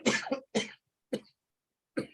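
One person coughs four times, close and dry, with a quick double cough followed by two single coughs separated by short pauses of silence.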